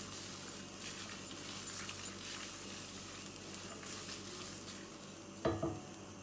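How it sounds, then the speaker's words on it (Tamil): Coconut and spices dry-roasting in a pan with no oil, stirred with a utensil: soft continuous scraping and light sizzle, close by, ending with a sharp clink against the pan. "எண்ணெய் இல்லாமல் வெறுமனே தான் நம்ம வறுத்துக்கிறோம்."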